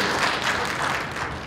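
Brief, fairly soft round of clapping from a union forum audience welcoming an introduced member, an even wash of hands without distinct beats.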